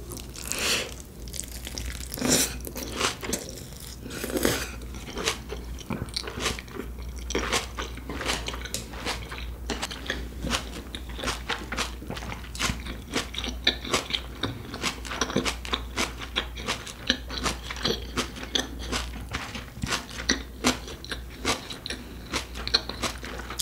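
Crunchy bites and steady chewing of a pork cutlet with kimbap and jjolmyeon noodles, close and clear, with dense rapid crunches repeating throughout and no talk.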